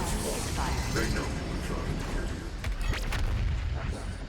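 The BFG 10,000 fires on Mars Core in DOOM Eternal, a heavy, continuous rumble with deep booming blasts and crackling bursts rolling through the whole stretch.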